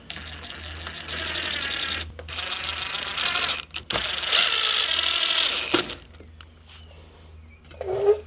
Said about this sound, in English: then we'll torque it down with a hand wrench